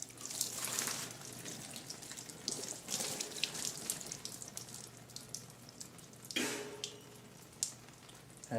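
Water from a big thermos is dumped over a Posiflex POS touchscreen terminal, giving faint splashing and trickling in several bursts with quiet dripping between them.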